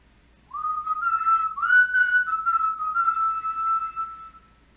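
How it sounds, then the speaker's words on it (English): A person whistles a melodic tune alone, a steady clear tone with sliding pitch changes and short phrase breaks, close and moderately loud for about four seconds. "I'm just sitting up there, and I just start whistling."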